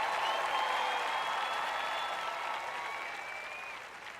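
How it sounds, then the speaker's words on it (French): Soft, steady clapping from a church audience, fairly distant and gradually fading, with faint tonal sounds drifting over it. "Maintenant, vous pouvez applaudir et faire du bruit."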